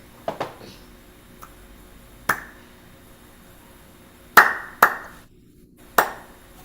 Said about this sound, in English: Arna, do you want to clap it for us?